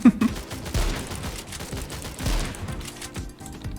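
Pistol shots in the video game S.T.A.L.K.E.R. played as a Minecraft mod: several sharp bangs spread irregularly over a few seconds, at moderate loudness against busy game background noise.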